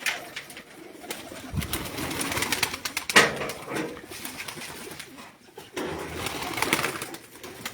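Flying-breed pigeons being readied on Malik Amir's rooftop coo softly and repeatedly at close range, with scattered flutters and rustles between the calls.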